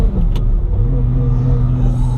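A 2000HP gated-shifter Lamborghini pulls hard in second gear, its deep engine roar rising steadily and loud throughout, close up from inside the cabin with no talking.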